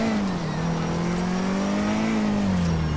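Car engine in GTA IV: The Lost and Damned revving and holding a steady droning pitch, with a slight dip and rise, loud and close throughout, with no talk.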